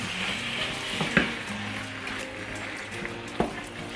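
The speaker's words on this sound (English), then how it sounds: "I'm just going to cook it just a little bit more until the meat is a bit more cooked" Meat and vegetables for bolognese sauce sizzle steadily in a pan, with a couple of sharp clinks from stirring, close and moderately quiet with no talking.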